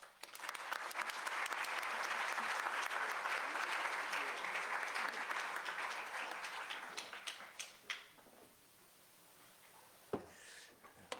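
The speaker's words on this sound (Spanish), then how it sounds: "les pido un gran aplauso" Audience at a law conference applauding steadily for several seconds, dense and fairly loud, then thinning to a few scattered claps with quiet gaps before a final isolated clap.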